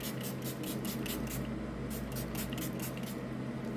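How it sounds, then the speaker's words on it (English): Setting spray misted onto a face from a pump bottle, a run of short hissing bursts close to the microphone over a steady low background hum, with no talk. "Now I'm spraying my face"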